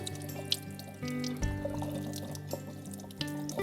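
Tap water runs and sloshes through a rinsed sausage casing for brisket boudin, flushing out the salt. A steady, close gurgling stream carries a few brief splashes and drips, with a faint tonal hum underneath.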